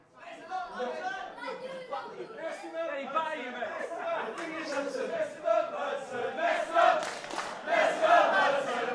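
A wrestling arena crowd in the Attack! Pro Wrestling video game chatters and cheers steadily, swelling louder toward the end, with a commentator-like voice talking over it.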